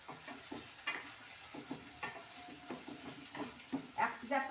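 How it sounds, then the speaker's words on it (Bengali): Turmeric and chili powder fry in a pan as a spoon stirs them, making soft repeated scraping strokes over a faint sizzle, heard quietly and close. "এবার এটাকে ভালো করে সুন্দর করে নাড়তে হবে"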